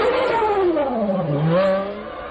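A 1997 Formula 1 car screams past loud and close, its engine pitch rising then dropping sharply as it passes, with more race engines following behind in a continuous roar.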